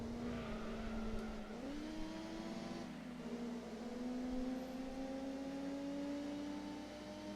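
Race cars accelerating in the Gran Turismo 2 video game, a continuous engine whine rising in pitch with a gear shift partway through, steady and moderately quiet with no talk.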